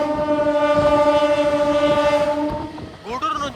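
A Gudur to Vijayawada MEMU passenger train runs steadily with a loud sustained horn-like drone and rolling rail noise, easing off near the end as a brief shifting tone rises.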